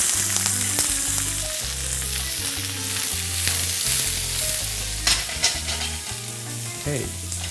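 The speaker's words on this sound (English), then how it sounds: "so cook it on a very high heat. I got a little piece of baguette in there." A small piece of baguette fries in a pan over very high heat, crackling and sizzling loudly and steadily with scraping stir sounds breaking through now and then.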